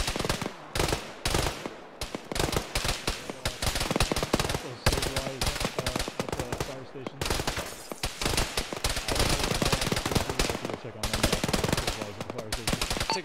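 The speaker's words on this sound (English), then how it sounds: "Taking fire from the northwest." Rapid bursts of automatic gunfire from a military shooter game session in Arma, loud and nearly continuous with overlapping shots and short gaps, some distant and some close, with occasional voices mixed in.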